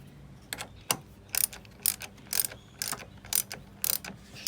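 A 10 mm battery post bolt on a 2004-2007 Toyota Corolla is tightened with a ratchet, giving about eight short, crisp clicking bursts in a steady rhythm, close and fairly loud with no talk.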